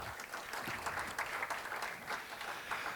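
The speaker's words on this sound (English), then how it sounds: "Give her a round of applause." Audience applause at a chamber of commerce annual meeting as a guest speaker is called up, steady dense clapping throughout, moderately distant with no talk over it.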